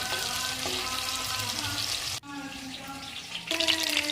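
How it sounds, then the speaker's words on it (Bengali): Dried shrimp fry in hot oil in a wok, giving a close, steady sizzle and crackle with a few stirring scrapes. A sharp break falls midway before the frying continues. "কড়াই বসিয়ে আমি তেলে দিয়ে দিলাম, আর লাল লাল করে একটু ভেজে নেব।"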